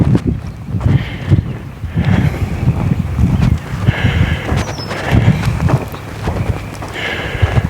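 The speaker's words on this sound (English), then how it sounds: "So everything is amplified by the wind and it gets blown away." Strong wind blows across open farm fields with no windbreaks, buffeting the microphone in continuous gusty rumbles with faint clattering and rustling beneath.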